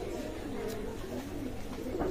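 A running pair of Shiyalkuti pigeons gives soft, low, repeated coos, faint and close against a quiet murmuring background.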